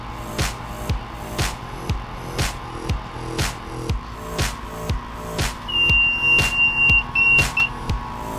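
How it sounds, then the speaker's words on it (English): Digital homebrew timer beeping during a Belgian Tripel all-grain brew day, a run of short, regular electronic bleeps at steady intervals, with one longer tone near the end, fairly close and clear. "And I'll just get my timer ready."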